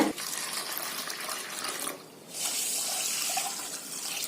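Running tap water splashes steadily while rice and moong dal are rinsed in a kitchen, with a brief lull midway before the flow resumes; no talking.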